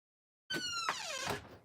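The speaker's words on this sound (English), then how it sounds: "Loud ass door. You WD-40 for that bitch." A loud door swinging open with a drawn-out, rising and falling creak on cold outdoor hinges, close and continuous for about a second after silence.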